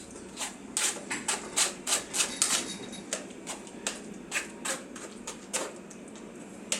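Roasted eggplant pulp pushed and scraped across a sieve to drain its liquid, a steady run of close, soft rasping strokes in an irregular rhythm, with no talking.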